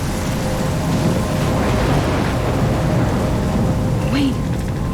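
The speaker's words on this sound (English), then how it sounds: "I'm trapped in a storm?" Heavy rain and a rumbling thunderstorm in the video game Life Is Strange, a loud, dense, continuous downpour with deep rolling thunder that stays steady throughout.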